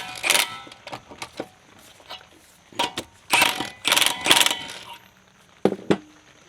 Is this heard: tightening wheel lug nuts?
yes